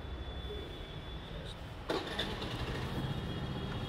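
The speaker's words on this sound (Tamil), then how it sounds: "20 ரீச் ஆகும்போது டர டரன்னு சவுண்டு வருது பாருங்க" A new Honda Dio scooter engine with a fault runs in a steady close drone with a rough, rattling texture, and a sharp clack sounds partway through.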